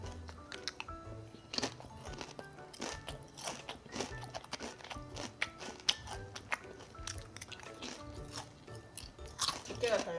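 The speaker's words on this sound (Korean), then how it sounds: "이게 좀 더 그래서 바삭바삭한 것 같아. 씹는 맛이 더 있어." Potato chips are crunched and chewed close up in irregular crisp bursts, with quiet talk between bites.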